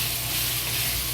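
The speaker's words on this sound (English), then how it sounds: "Add the chopped ginger. Fry. Slowly fry until the ginger releases good smell." Chopped ginger fries in a hot wok, giving a steady, dense sizzle that stays loud and close from start to finish, with no voice.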